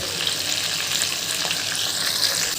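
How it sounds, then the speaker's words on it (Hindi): Chopped onion sizzles steadily in a pot of hot oil for Jharkhandi-style handi mutton, a close, continuous dense crackle with occasional stirring and no voices. "और अब प्याज को करते हैं थोड़ा सा फ्राई।"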